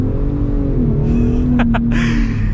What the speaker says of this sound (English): it sounds great with that trombone exhaust